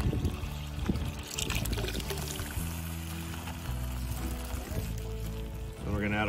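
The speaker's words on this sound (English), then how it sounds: "We're gonna add our beef stock." Beef stock pours steadily into a pot over an open fire while venison osso buco is being made, a continuous close splashing and gurgling stream with a slight shift near the end.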